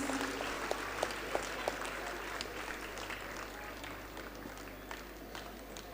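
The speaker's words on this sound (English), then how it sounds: "Please keep the clapping going." Children applauding their teachers at a school acknowledgements and felicitation event, a steady, fairly distant wash of clapping with a few sharper claps early on.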